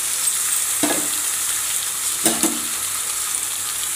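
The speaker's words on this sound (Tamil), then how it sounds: "இதை போட்டுட்டு நல்லா வதக்கணும்." Turmeric-coated chicken frying in masala in a pan, a steady close sizzle with two brief scraping stirs breaking through the hiss.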